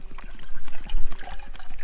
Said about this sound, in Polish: zalewam go wodą